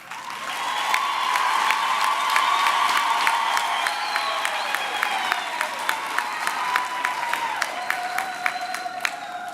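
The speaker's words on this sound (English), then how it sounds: "I do think all those who receive qualifications just now should receive another resounding applause" Graduation ceremony audience at a university campus hall breaks into sustained applause with cheering, whoops and high shouts over dense clapping, with sharp individual claps standing out near the end.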